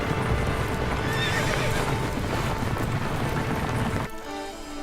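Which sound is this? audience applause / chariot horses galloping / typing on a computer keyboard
chariot horses galloping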